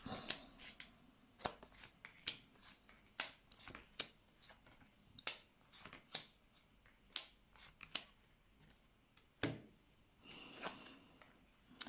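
Tarot cards shuffled for a reading, a run of sharp riffling snaps and soft slides repeating irregularly, close and fairly quiet, with no voices.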